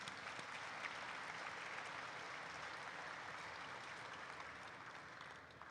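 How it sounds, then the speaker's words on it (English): Sustained applause from a seated audience at an awards dinner honoring sponsors and patrons, a steady dense clapping that fills the room evenly for the whole stretch and tapers slightly at the end. "give a round of applause to our patrons and friends who sponsored tables"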